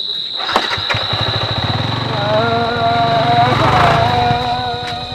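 A motorcycle engine starts and revs nearby, its low rumble rising in pitch as it pulls away, with a steady high whine in the background.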